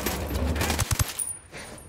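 Gunfire in the Ghost Recon Wildlands video game: a sustained rattle of rapid shots ending in three heavy, close reports, then quieter distant firing, with no talking.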